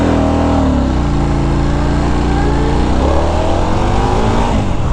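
A 2025 Indian Scout 101 motorcycle engine revs hard and climbs through the gears, its loud, continuous drone rising in pitch, dropping briefly at each shift and building again, close and steady throughout.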